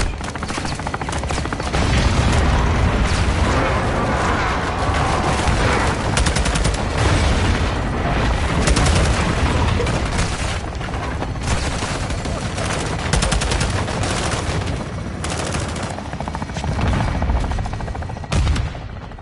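Gunship gun run raining sustained heavy fire onto a tower in Modern Warfare 2, a dense, continuous barrage of rapid shots and booming impacts that stays loud throughout, with faint voices under it.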